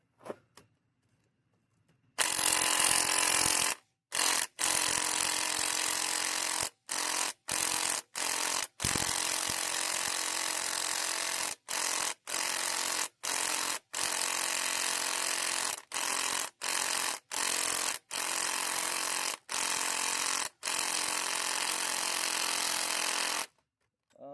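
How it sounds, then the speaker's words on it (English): A Snap-on 3/8-inch impact gun hammers at a stubborn bolt on a Jetta wagon engine swap, loud rattling bursts broken by about a dozen short pauses, with no voices. "We're going to see if our little 3/8 gun will bust her out."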